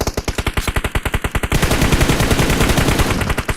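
Rapid automatic gunfire in the mobile battle royale game PUBG Mobile, a steady stream of close, loud shots at a fast even rhythm, then merging into a dense continuous roar of overlapping fire.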